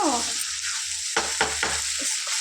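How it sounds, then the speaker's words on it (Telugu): Mutton liver pieces frying in a pan, with a low sizzle broken by several distinct spatula scrapes and stirs in quick succession, close and moderately loud. "ఫ్రెండ్స్ ఇలా ఒక ఫైవ్ మినిట్స్ ఇలా ఫ్రై చేసుకున్నా ఫ్రెండ్స్ ఇవి చక్కగా ఫ్రై అయినాయి"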